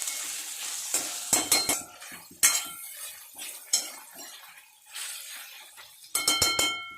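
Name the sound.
round gourd (tinda) being sautéed with salt in oil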